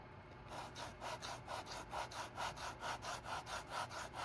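Leather edges are hand-sanded in close, soft, evenly paced strokes, about a dozen rhythmic scratchy passes in a row, quiet and intimate with no voices.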